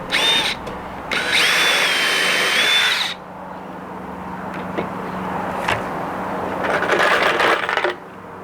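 A power drill drives a screw into cheap wood framing for a budget shed, whirring loudly in two close bursts, the second longer, followed by quieter handling knocks and a brief third spin near the end.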